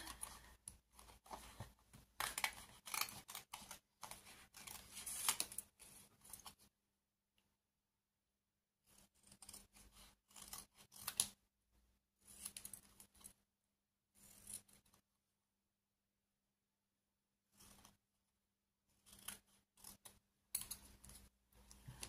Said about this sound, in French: Ensuite, je vais découper nos petits tags là.